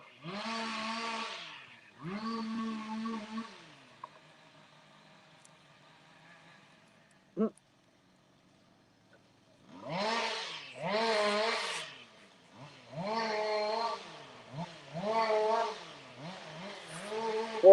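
Tree cutters' machinery working trees along a street, heard as several loud bursts of revving, whining engine noise with harmonic sweeps, separated by a quiet stretch and a brief sharp knock.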